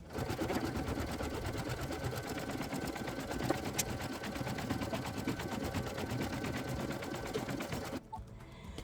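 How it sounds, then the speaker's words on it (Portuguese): Computerized embroidery machine stitching to tack fabric to the underside of the hoop, a steady loud rapid mechanical chatter running continuously for about eight seconds before stopping abruptly into near silence. "a gente volta o bastidor para a máquina, para na etapa azul, a máquina fazer a fixação do tecido da parte inferior."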